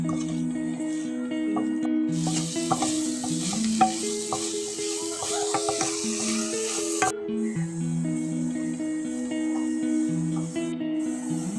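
Drumstick flowers are stir-fried in a tomato masala, with steady close sizzling and frying under repeated scraping and stirring strokes of a spoon in the pan; no talking.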